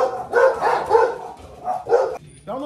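Several dogs bark in quick, yappy bursts nearby, loud and close, with a short whimpering yelp near the end.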